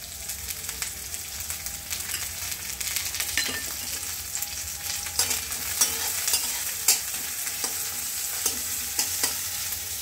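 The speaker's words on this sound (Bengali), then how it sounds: "পেঁয়াজটা একটু লাল লাল ভাজা হয়ে গেলে আমি যে বাটা পেস্টটা আছে ওটা দিয়ে দেব।" Sliced onions sizzle in hot oil in a pan for chicken curry, a constant hiss broken by frequent scraping knocks of a spoon stirring, growing busier toward the end, heard up close with no voices.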